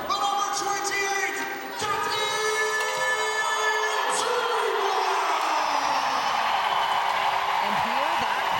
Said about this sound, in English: And hear that crowd roar for Dubois, a fan favorite.